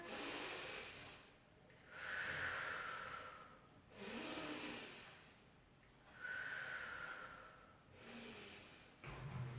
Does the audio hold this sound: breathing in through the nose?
yes